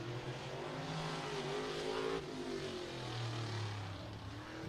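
A race car circles a speedway track at Showtime Speedway in Pinellas Park, Florida, its engine droning steadily and shifting pitch as it passes, heard at a distance without talk.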